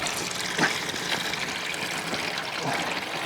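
Liquid that may be vinegar or water trickles and splashes out of an abandoned 1960 Lincoln Continental motorhome, a steady pouring dribble with a few louder spatters and no talk.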